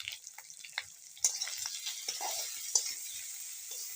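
Omelette curry with turmeric and salt being stirred in a pan, a steady close sizzle with scraping spatula strokes and a couple of sharper clinks against the pan.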